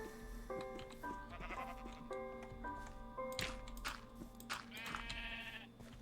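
Sheep bleat in a video game village scene, with several short bleats layered over game music and light tapping effects.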